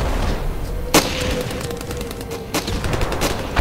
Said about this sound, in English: Oh, we took a HE round.